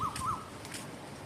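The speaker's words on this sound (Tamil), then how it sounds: "குயில் இருக்கா" An Asian koel calling outdoors, two short rising whistled notes in quick succession at moderate distance, followed by faint background ambience.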